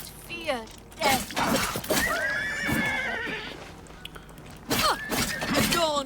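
A horse in the video game The Elder Scrolls IV: Oblivion Remastered whinnies in a couple of loud, close, wavering bursts, with hoof clip-clops and a glassy shatter nearby, under intermittent talk.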